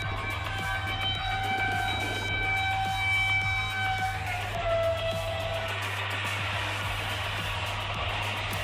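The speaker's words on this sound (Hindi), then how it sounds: "ये वो दूसरी फास्टेस्ट ट्रेन दूसरी कौन सी? Shalimar express, maximum speed 120 kilometre per hour." Shalimar Express passenger train running, a steady rumbling roar with a low hum and sustained horn-like tones early on, fairly loud and continuous.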